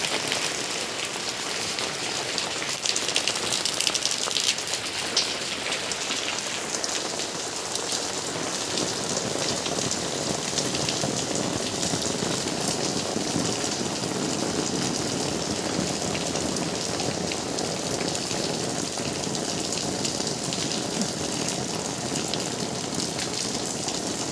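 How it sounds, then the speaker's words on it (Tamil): Steady heavy storm rain pouring down on surfaces in Chennai, a dense continuous hiss with pattering drops throughout, no voices. "ஏன்னா மழை பெய்யுதுல்ல"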